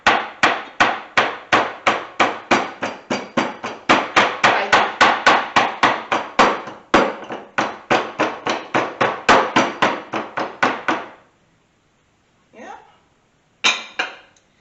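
Rapid heavy pounding of stallion beef steak being flattened, dozens of sharp close impacts in a fast rhythm for about eleven seconds, then a pause and a few scattered knocks.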